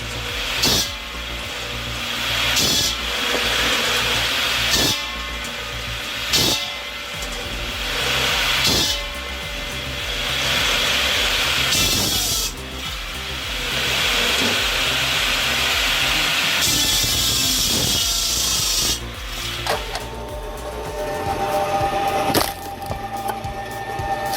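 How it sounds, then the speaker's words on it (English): Homemade electric log splitter working through firewood, a steady motor hum broken by repeated sharp cracks and splintering bursts as logs split apart, close and fairly loud. "He built his own electric log splitter, and it works like a charm."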